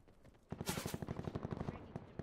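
Rapid automatic fire from a KN-44 rifle in Call of Duty Black Ops on the Seaside map, a steady burst of sharp, evenly spaced shots starting after a brief quiet lead-in and running loud and close to the end.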